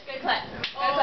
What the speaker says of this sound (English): Good clap.